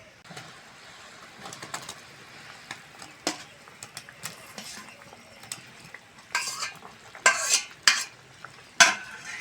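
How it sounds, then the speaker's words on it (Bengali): Fried potatoes tipped into a pot of boiling broth for a cauliflower curry, giving scattered clattering knocks and scraping stirs that grow louder and sharper toward the end, with a faint bubbling underneath. "ঝোল ফুটে গেছে, ভেজে রাখা আলু দিয়ে দেবো"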